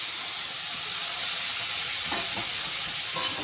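Tomato pieces and cauliflower florets drop into masala frying in a pan for a cauliflower and red lentil dal, giving a steady close hiss and sizzle with a few soft stirring scrapes, no voices.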